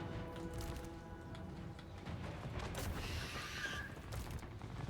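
Massed musket-style gunfire crackles in a Total War Warhammer battle, a faint, distant volley with a brief burst of sharper reports partway through, rumbling steadily with no talk.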